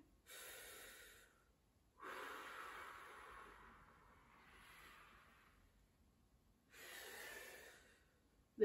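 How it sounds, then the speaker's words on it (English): Deep, slow breaths drawn in during a guided breathing exercise at a live sing-along session, three long airy inhalations separated by quiet pauses, close and soft. "Okay, breathe in."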